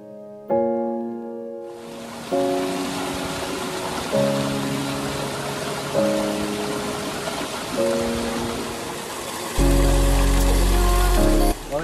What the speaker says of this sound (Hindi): ये वाटरफॉल है